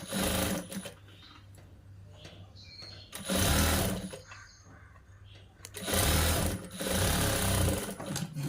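Sewing machine stitching a boys' school uniform shirt, running in loud bursts with quieter pauses between them.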